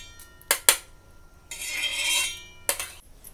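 Fried chillies and garlic being transferred from a pan onto a plate, with two sharp metal clinks, a soft sliding scrape of the spatula, then another clink, close and fairly quiet.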